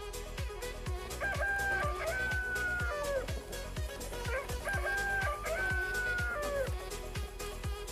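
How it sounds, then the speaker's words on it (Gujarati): A rooster crows several times over a steady rhythmic musical backing, its calls rising and falling in repeated phrases, loud and near. "કોક એટલે કુકડો ચાલો આપણે તેનો વિડીયો જોઈએ"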